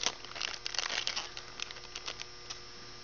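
A new cable and cable clamp are pulled out of a plastic bag, making soft, close crinkling and rustling that is busiest at the start and thins out toward the end, with a faint steady hum underneath.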